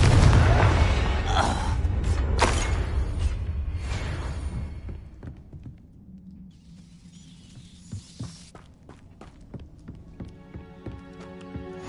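A Confringo blasting spell in the Hogwarts Legacy video game bursts in a loud, booming explosion that rumbles and fades, followed by quieter scattered clicks and taps.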